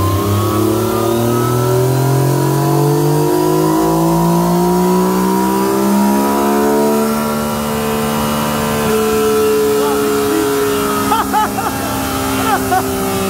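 A Yamaha MT-09 motorcycle pulls hard toward top speed in high gear, its loud engine note climbing steadily and holding a sustained high-pitched roar with strong wind rush throughout.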